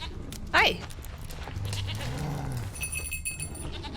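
A goat in The Witcher 3 lets out a short, wavering bleat early on, then a lower drawn-out bleat, over faint game ambience and a bell-like ringing near the end.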